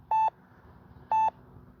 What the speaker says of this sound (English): Oh, that's my countdown